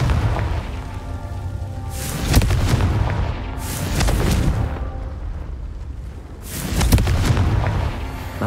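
A Confringo spell explosion in the video game Hogwarts Legacy: heavy booming blasts over a dense rumbling, roughly three big surges, loud and close with no talking.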